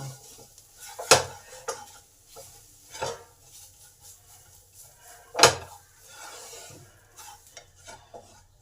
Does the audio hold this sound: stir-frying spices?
yes